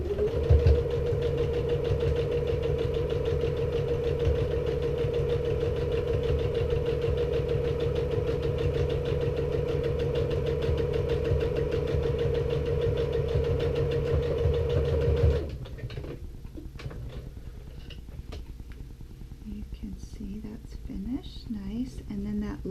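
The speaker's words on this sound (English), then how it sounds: "So let me stitch this down right along that edge, just top stitching as close as I can to the edge." A sewing machine top stitches close along the edge of fabric for a passport wallet, a steady close hum with a fast even needle rhythm for about fifteen seconds, then it stops and only quiet handling remains.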